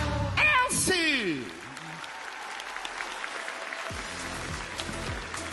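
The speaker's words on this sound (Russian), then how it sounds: "Давайте аплодисментами поддержим" Audience applause and cheering after a live song performance, loud and dense at first, with voices over it, then fading into sustained, softer clapping from a large crowd.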